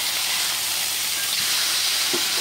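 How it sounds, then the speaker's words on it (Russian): A steak sears in a hot cast-iron pan, a loud, steady, close hiss of sizzling fat with a couple of faint clinks from turning the meat, no talk. "Ну что, пора переворачивать наше мясо."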